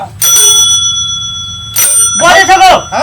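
A bicycle bell rings twice with bright, sustained metallic tones, loud and close, followed by a person speaking.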